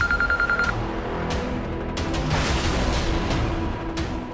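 A short electronic phone ringing trill repeats quickly at first, then gives way to scattered thuds and clatter in a quiet room.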